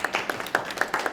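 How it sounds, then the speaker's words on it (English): A small writing-workshop group applauds itself, a handful of distinct, fairly faint hand claps at an uneven rhythm, sparse rather than a full ovation. "Give yourselves a round of applause."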